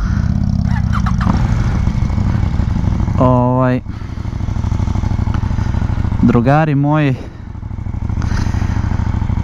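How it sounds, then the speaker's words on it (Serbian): A motorcycle fitted with its factory exhaust runs at a steady idle throughout, its low, even rumble continuing beneath someone speaking close by. "bilo kakve emocije da čujete u nastavku ovog klipa su samo zbog ovog motora, tako da fabrički auspuh je instaliran, motor je spreman"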